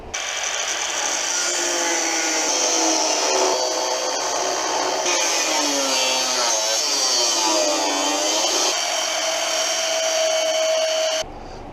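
A cutting wheel grinds off rusted rear bumper bolts, a loud continuous high-pitched whine with shifting pitch as the disc bites into the steel, ending abruptly.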